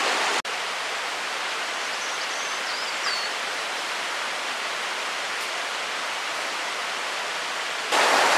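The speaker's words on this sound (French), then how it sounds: "on a le ruisseau qui continue de descendre" A forest stream flows downhill near a bushcraft camp, producing a steady, close rushing hiss of water that stays even throughout with no talking.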